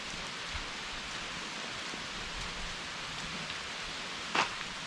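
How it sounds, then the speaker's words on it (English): Steady rain falls outdoors during a summit radio activation, a soft continuous hiss throughout with no talk, and one brief sharper burst near the end. "it's raining pretty good"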